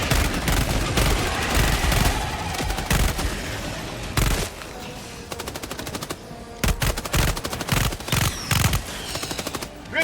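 Gunfire in the video game Helldivers 2, loud rapid automatic bursts and repeated shots in uneven clusters, with brief pauses between volleys and no talk over it.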